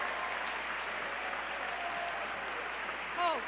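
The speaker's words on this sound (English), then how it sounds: "And a round of applause for our CUCA learning community." An audience applauds at a medical school white coat ceremony. The clapping is even and moderately faint, as if heard from a distance, and a voice briefly speaks near the end.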